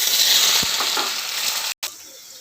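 Potatoes sizzle steadily in hot oil with a mustard-paste tempering while a spatula stirs them, a continuous loud fry that drops out briefly near the end.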